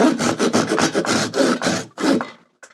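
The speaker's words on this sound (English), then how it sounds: "We'll just do a straight on cut and see how that works." A hand saw cuts straight through scrap wood held in a miter box, giving about a dozen quick, rhythmic rasping strokes, close and clear, before stopping with a light knock.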